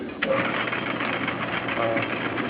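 A metal lathe cutting a coarse 10-pitch thread at its slowest speed runs as a steady, dense mechanical whir with a faint rhythmic chatter, continuous and fairly loud throughout.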